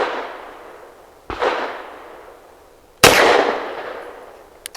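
Two sharp pistol shots from an EAA Girsan Witness 2311S firing 115 grain cartridges, well spaced, each a loud crack with a long ringing decay, followed by a faint metallic click.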